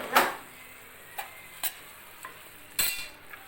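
A spoon scrapes and taps in a pan as turmeric is stirred into a frying curry base for brinjal fish curry, giving several sharp clicks over a faint steady sizzle.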